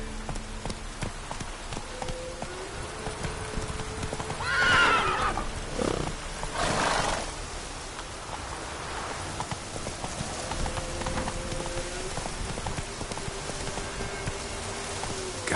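A horse in The Witcher: Wild Hunt gives a loud whinny with a second neigh soon after, over quiet hoofbeats and a soft ambient outdoor bed.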